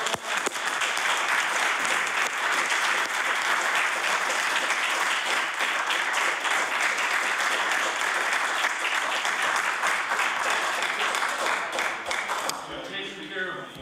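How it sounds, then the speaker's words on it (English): Members of the House of Assembly give a sustained round of applause, dense steady clapping filling the chamber for many seconds before fading out at the end. "if the members would give them a warm round of applause,"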